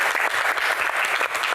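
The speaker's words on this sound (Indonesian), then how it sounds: "kita berikan tepuk tangan sekali lagi yang paling meriah untuk bintang tamu kita" A studio audience gives hearty applause for guest star Titiek Puspa on a talk show, a dense, steady wash of many hands clapping close by throughout, with no talking over it.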